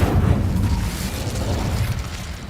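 Incendio fire spell cast in Hogwarts Legacy, a loud, dense whooshing burst with a heavy low rumble that carries on steadily for a couple of seconds with no voices over it.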